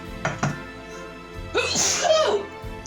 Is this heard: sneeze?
yes